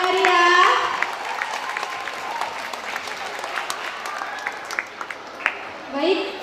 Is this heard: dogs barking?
no